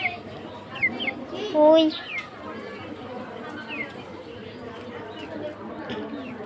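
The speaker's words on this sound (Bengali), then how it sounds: "ওই মুরগি" Chickens cluck in an outdoor yard with a few short calls and a louder cluck near the middle, while small birds chirp faintly and a voice is heard in the background.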